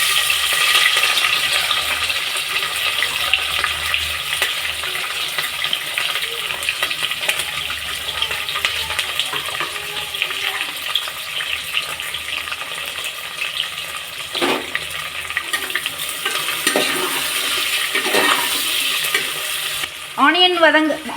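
Onion and chilli sizzle and fry with cashews in a hot pan, with steady close crackling and a stirring spoon scraping throughout, and a few louder clatters near the end.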